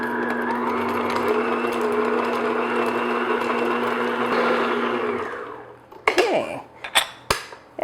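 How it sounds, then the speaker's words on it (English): Electric mixer beating unsalted butter in a bowl for cupcake batter, a steady loud whir for about five seconds, then stopping, followed by clinks and knocks of beaters and utensils against the bowl. "So what I'm going to do is just beat my butter just until it's nice and smooth."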